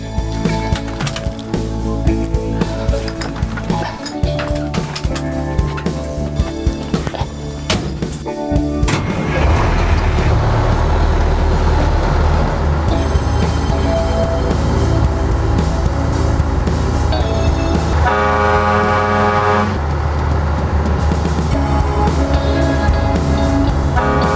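Old four-man-cab truck pulling away, a loud rumbling engine with a horn toot early on, then a steady, close roar as it drives off.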